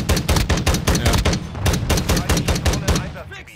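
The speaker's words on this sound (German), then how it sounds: "Ich schieße und dann wechselt meine die Waffe." Rapid automatic gunfire in an MW2 remake first-person shooter game, loud bursts of closely spaced shots repeating throughout with brief gaps, alone without voices.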